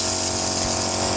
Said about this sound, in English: it has a power water pump underneath here